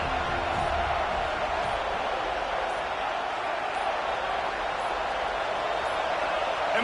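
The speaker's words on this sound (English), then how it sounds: "with this place rocking, the crowd forces a false start" A loud football stadium crowd at a college game, Florida State versus Alabama, roars steadily in a dense, unbroken wall of noise that fills the whole stretch, with speech mixed in.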